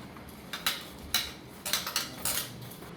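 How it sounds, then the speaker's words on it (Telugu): A spoon stirs oil through a vegetable mixture in a pan, making a few sharp metallic clinks and scrapes, close and fairly quiet, with no talking. "సో ఇది మొత్తం ఒకసారి కింద నుంచి పై వరకు కలుపుకుంటున్నానండి."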